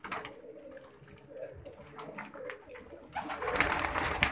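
Soft, low pigeon cooing repeats in the background, growing a little louder toward the end amid some faint rustling.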